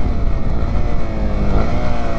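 A 2023 Honda CB250R motorcycle on the move during a brake test, with a loud, close engine drone and rushing wind whose pitch slides downward as the bike slows, with no talking.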